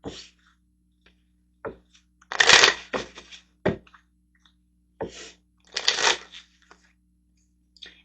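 Tarot cards being shuffled and handled, several separate bursts of riffling and flapping with short taps and pauses between them, close and quiet with no talking.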